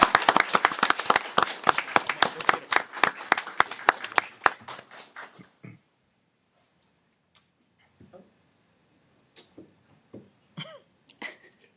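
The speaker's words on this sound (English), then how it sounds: "Let's give Dr. Nazario a great big round of applause." Applause at a Gaithersburg Mayor and Council meeting, a burst of dense clapping from the room for about five seconds that fades out, followed by scattered quiet claps, a cough and small room noises.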